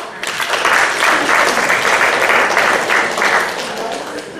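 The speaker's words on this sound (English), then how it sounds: "let's give Kelsey a big round of applause to welcome her" A church congregation at a Children's Sunday service claps loudly and steadily for several seconds to welcome Kelsey, a dense close crowd of hands with a few voices calling out under the applause.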